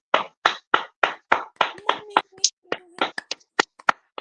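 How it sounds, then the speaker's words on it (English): Hands clap in a steady rhythmic series of about fifteen sharp, close claps, with a few softer hits mixed in near the end. "we're gonna start off clapping"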